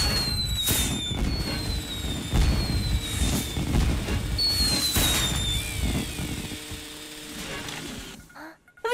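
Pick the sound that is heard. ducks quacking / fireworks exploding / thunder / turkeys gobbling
fireworks exploding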